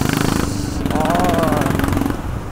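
An old refurbished motorcycle engine runs with a steady throbbing putter close by, a person talking over it.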